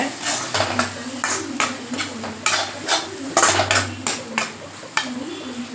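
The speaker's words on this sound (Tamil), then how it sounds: "இப்போ மிளகாத்தூள் போட்டுக்கலாம் போட்டு அதையும் நல்லா மிக்ஸ் பண்ணிக்கோங்க" Chili powder being mixed into a dried fish thokku in a pan, with repeated metal spoon scrapes and clanks against the pan in a steady rhythm, close and fairly loud, over a low background hum.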